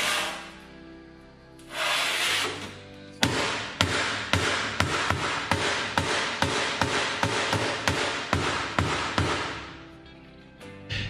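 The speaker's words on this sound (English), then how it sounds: "I use a dead blow hammer and it does a real good job of taking that twist out." A dead blow hammer strikes twisted steel in a welding shop, about fifteen sharp, loud blows in a steady rhythm after a stretch of hiss, each impact ringing briefly.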